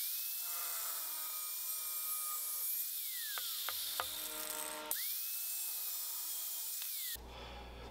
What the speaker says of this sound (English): I'm going to use an angle grinder with a cutoff wheel.